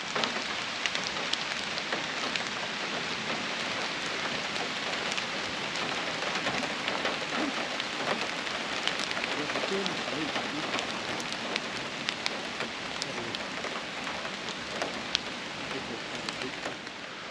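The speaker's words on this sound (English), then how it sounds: "as you can see, the rain has come" Steady rain patters on a hammock camp in the woods, a dense, even hiss of drops striking tarp and leaves with occasional sharper ticks, continuous and moderately close, no voices.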